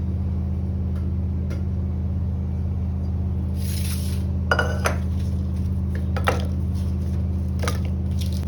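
Pressure cooker being picked up and handled in a home kitchen while making mango seed mukhwas, a few sharp metallic clinks and clanks scattered over a steady low hum, no talking.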